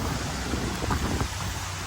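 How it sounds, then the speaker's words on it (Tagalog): Heavy rain falls in a steady, dense, loud wash outdoors at a fountain, with no voices heard. "malakas ang ulan."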